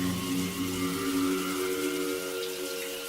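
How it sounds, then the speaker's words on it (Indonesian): A bathroom shower tap runs on its own in a villa, giving a steady rushing hiss of water with a constant tonal whir beneath it, close and continuous with no talk. "keran shower airnya menyala sendiri"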